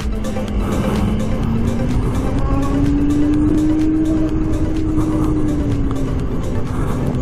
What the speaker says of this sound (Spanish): Solo se oye el ruidicillo ahí del motor eléctrico, qué bueno.